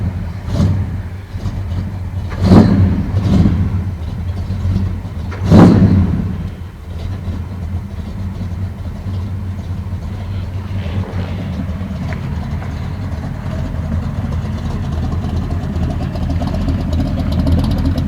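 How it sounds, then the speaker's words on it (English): A Ford truck's stock 390 FE V8 idles during cold-start warm-up, a steady loping rumble close to the mic with a couple of brief revs early on before settling into an even idle. "It's just cold start warm up."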